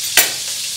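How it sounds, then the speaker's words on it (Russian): Zucchini sizzling in a frying pan, a steady bright hiss with one quick stir or scrape near the start, close and fairly loud, no voices. "Ну что, начинаем готовить кабачок."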